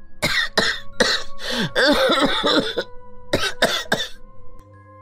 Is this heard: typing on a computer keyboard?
no